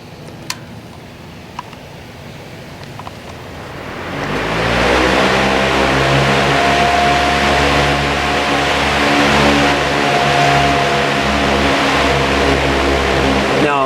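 A Western Harmonics solar hanging fan running at high speed, close up from behind: after a few faint ticks it spins up into a loud, steady motor whine with a droning hum that holds for about ten seconds.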